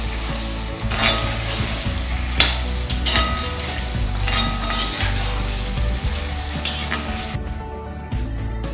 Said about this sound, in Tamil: இப்போ இதில் தக்காளி போட்டுக்கலாம். தக்காளி கொஞ்ச நேரம் வதங்கிட்டங்க.